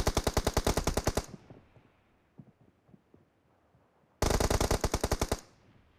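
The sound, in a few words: gunfire in a shooting video game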